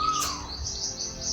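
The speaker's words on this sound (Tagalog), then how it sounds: "Ibon. Ibon? Anong ibon yan?" A single bright bird chirp rings out near the start, followed by faint high twittering in a quiet outdoor setting.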